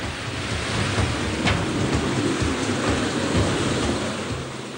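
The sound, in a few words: flowing water of the Gihon spring in an underground tunnel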